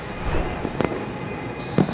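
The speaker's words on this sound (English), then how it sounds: "Fireworks." Fireworks burst at a BPL 2024 cricket match between Fortune Barishal and Khulna Tigers, with sharp crackling pops over steady crowd noise and stadium ambience, loudest near the end.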